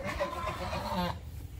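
Several ducks give short, nasal calls close by over a brief moment, amid faint background noise.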